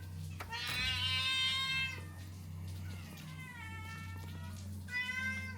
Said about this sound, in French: J'ai tous les chats qui me demandent à bouffer, évidemment.